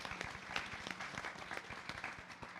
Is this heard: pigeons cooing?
no